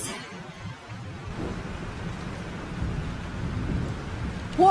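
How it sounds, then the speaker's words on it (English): In the game Life is Strange, a heavy storm of rain and rolling thunder carries on as a steady, dense roar of rain under deep rumbles. A sharp, louder burst comes right at the end. "This storm is real."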